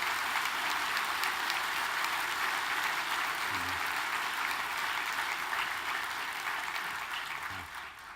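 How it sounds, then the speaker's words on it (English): Steady, dense applause from a large crowd at a university graduation ceremony continues for several seconds, then begins to taper off at the end. "Don't clap me, clap the tutors"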